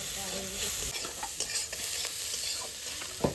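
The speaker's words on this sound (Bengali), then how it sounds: "এবার ভালো করে কষিয়ে দেবো" Close, busy sizzling as spices are stirred and sautéed in a pan, with quick scraping strokes and a sharp clink near the end.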